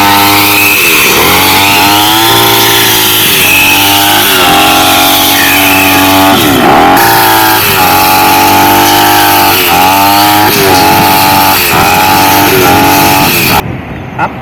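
A JX04-JX260 shoulder-carried brush cutter runs hard while cutting grass, its small two-stroke engine whining loud and close with repeated rising and falling revs as the blade bites in, before cutting off abruptly near the end.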